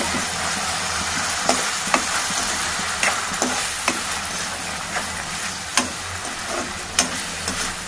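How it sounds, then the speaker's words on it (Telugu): Thinly sliced red tomatoes cook in oil in a pan with a continuous bright sizzle, while a spoon taps and scrapes now and then during stirring; close, steady and free of speech. "ఎర్రటి టమాటాలు సన్నగా కట్ చేసుకుని అందులో వేసాము ఇవి బాగా మగ్గాలి"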